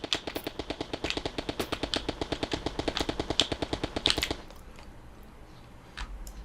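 Rapid, evenly spaced gunfire from a Unity third-person shooter demo game, about four seconds of sharp repeated shots close up, then stopping abruptly and leaving quiet background ambience.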